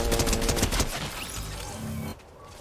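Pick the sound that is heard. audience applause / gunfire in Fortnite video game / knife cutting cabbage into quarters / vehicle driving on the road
gunfire in Fortnite video game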